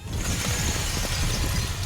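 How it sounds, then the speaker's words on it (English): Glass shatters into pieces in a video game, a dense crackling burst of breaking fragments spread over about two seconds, loud and steady with a low rumble beneath and no talk. "Shatters into pieces."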